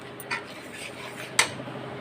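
A spoon scrapes and clinks against a pan as semolina is stirred into hot water over a low flame into a lump, with a couple of sharp metallic knocks among softer scraping.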